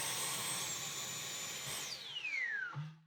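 A Dyson V12 Digital Slim cordless vacuum cleaner with a cutting-out fault whines steadily, then its high motor pitch drops fast and it winds down and stops, ending in a brief low hum. Close and fairly quiet.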